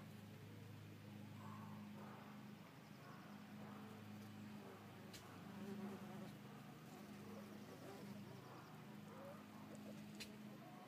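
Bees hover among blooming comfrey plants, their soft droning buzz wavering steadily as they move between blossoms, quiet and close with a few faint ticks in the background.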